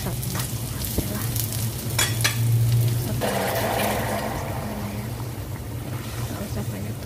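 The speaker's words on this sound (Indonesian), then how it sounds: "Terus kita kasih air panas yang mendidih ya guys" Boiling water poured into a pan of chicken being braised with spices sets off a loud sizzle and bubbling hiss that swells midway and continues steadily, with a low hum beneath.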